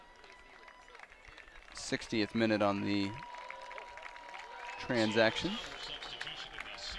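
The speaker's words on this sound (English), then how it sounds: "a round of applause for Michael Sperning from the Seattle fans in attendance" Seattle Sounders fans in a stadium applaud a substituted player during a Desert Diamond Cup match against Real Salt Lake, with distant, diffuse clapping swelling in two waves beneath a commentator's ongoing talk.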